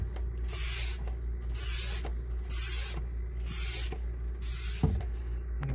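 Hand oil extractor pump drawing engine oil from a Mercruiser 5.7 EFI marine engine: five steady rhythmic hissing strokes about a second apart as the handle is pumped, close and fairly quiet over a low hum.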